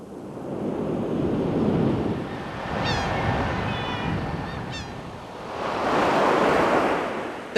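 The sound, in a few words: ocean waves and surf churned by a hurricane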